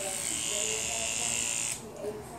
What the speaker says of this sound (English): I'm going to go ahead and just shave a little area right here.